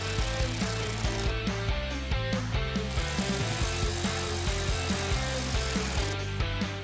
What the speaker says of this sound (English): Reinstall the fender to bumper brackets, tighten them down.